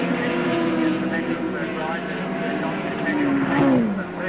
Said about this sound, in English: Dick was very close to the tail of Perkins' car